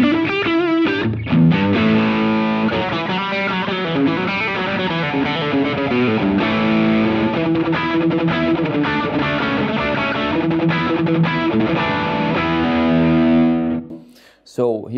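An electric guitar played through a Walrus Audio distortion pedal, thick sustained distorted chords and notes ringing for over a dozen seconds before cutting off near the end.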